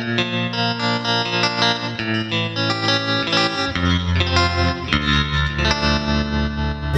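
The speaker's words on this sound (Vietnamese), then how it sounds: "nhưng mà nó có thêm cái tiếng tremolo vô để các bạn rao ngâm thơ cho người ta dễ nghe" An electric guitar playing traditional Vietnamese cổ nhạc through a Nux MG300 multi-effects unit with tremolo, sustained shimmering notes and chords, loud and close, heavy with modulation and reverb, with no voices.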